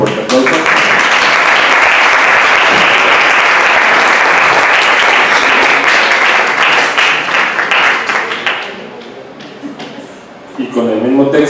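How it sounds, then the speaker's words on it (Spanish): An audience at a film and photography panel applauds a certificate recipient, loud, full clapping sustained for about eight seconds before thinning out, with a brief pause and then a speaking voice at the end. "Le damos un fuerte aplauso."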